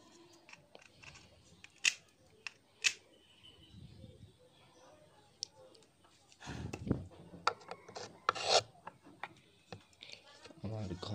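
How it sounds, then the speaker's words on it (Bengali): A stone rubbing down a raised edge, heard as scattered close scraping and grinding strokes with sharp clicks and pauses between bursts, fairly quiet overall. "তাই আমি একটি পাথরের সাহায্যে একটু ঘষে নিচ্ছি।"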